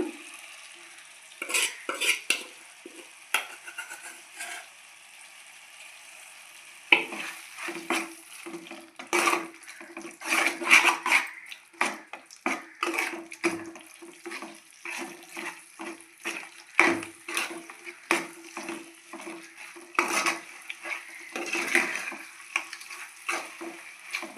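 A spoon stirs gongura leaves into a village-style chicken curry in a pan, making repeated scraping and swishing strokes over a soft sizzle. The stirring comes in uneven bursts, with a quieter stretch at the start.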